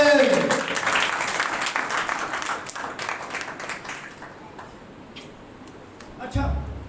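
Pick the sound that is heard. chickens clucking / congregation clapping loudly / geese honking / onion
congregation clapping loudly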